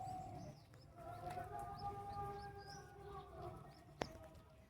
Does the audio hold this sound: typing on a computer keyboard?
no